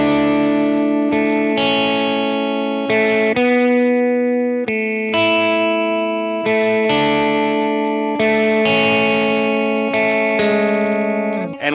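An electric guitar plays a slow riff from a worship song with no delay, sustained distorted notes changing one after another, loud and close, with no talking.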